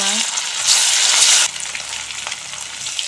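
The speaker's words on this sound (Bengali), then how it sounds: "তেল গরম করে নিয়েছি, এখন মাছ ভেজে নেব।" Rui fish pieces sizzle loudly in hot oil in a wok, a bright continuous crackle that swells for a moment as the fish goes in, then settles into a steady fry.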